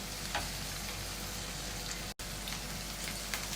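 Okra (bhindi) frying in oil gives a steady, dense sizzle with soft crackles throughout, briefly cut off once near the middle, with no voices.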